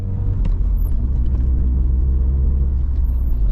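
A Vauxhall Cavalier CD's C20XE engine idles steadily just after starting, a loud, continuous low rumble with no misfires or stumbles, heard close up without talk.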